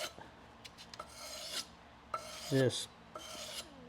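A steel leather strap end punch is sharpened and polished along its bevel with short, quiet rasping strokes, a few scrapes with pauses between, and one brief ringing metallic squeal in the middle.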